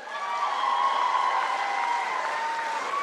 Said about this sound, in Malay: Tepuklah sikit.